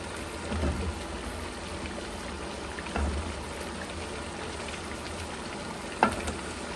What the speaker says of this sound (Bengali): এখন পেঁপে আর আলুটা ভালো মতো কষাবো।